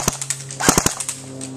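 A Dboys MK16 SCAR-L airsoft rifle fires a few short bursts of sharp, rapid clicking shots at roughly 800 rounds per minute, close and loud, with a faint motor whine lingering between bursts.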